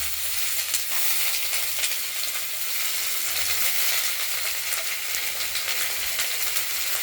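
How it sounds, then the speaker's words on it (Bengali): Mustard seeds and green chillies fry in hot oil in a wok as a tempering, a steady, close hiss and sizzle with small pops throughout, with no talking. "এবার আমরা সর্ষে আর কাঁচা লঙ্কা ফোড়ন দিয়ে আমরা ভেজে নেব"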